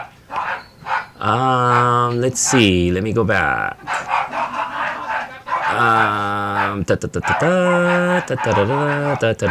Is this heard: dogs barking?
yes